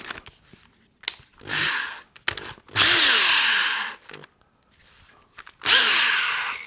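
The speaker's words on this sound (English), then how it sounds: "I use another drill extension." A power drill with an extension whirs in several bursts of a few seconds each, rising and falling in pitch as it sands the inside walls of a natural-edge wooden hollow form, with short pauses between.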